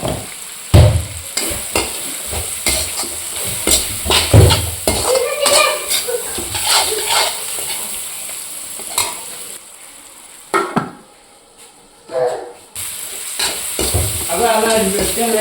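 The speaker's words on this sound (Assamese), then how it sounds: "এতিয়া কাবুলী বুটখিনি ধুনীয়াকৈ পুৰাই দি গৈছে।" Chickpeas frying with tomato, salt and spices in a pan, stirred with a spoon that clatters and scrapes against the metal in irregular bursts over a constant loud sizzle, close up, with a brief quieter lull partway through.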